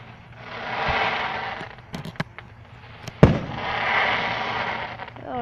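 Outdoor fireworks set up on the ground fire off in the distance: sharp cracks and pops, one especially loud bang, over a rolling hiss of bursts that swells and fades.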